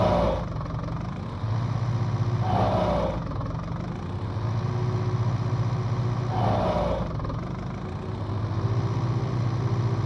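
A tractor engine in Farming Simulator 19 drones steadily at idle, with a few short whooshing swells as it shifts or revs slightly, loud and continuous.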